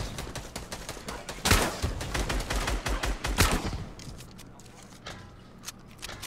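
Assault rifle fire in Fortnite rattles in rapid repeated bursts, loud and close, with a heavier blast partway through and people talking over the shooting.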